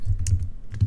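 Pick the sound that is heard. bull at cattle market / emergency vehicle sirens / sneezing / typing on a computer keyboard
typing on a computer keyboard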